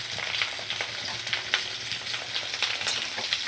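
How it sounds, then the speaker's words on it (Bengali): Green chillies sizzling in hot oil in a home kitchen pan, a steady crackling fry with frequent sharp pops and spits, close and continuous throughout. "কাঁচা লঙ্কা দিয়ে দিলাম।"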